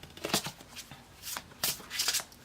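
A deck of Soul Journeys tarot cards being shuffled and flipped through by hand, with soft, quick papery riffles in a few short bursts, close and fairly quiet.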